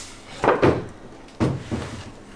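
Upper doors on a thrifted wooden cabinet swinging open and folding down, two pairs of close, moderately loud wooden knocks and thuds spaced about a second apart in a quiet room.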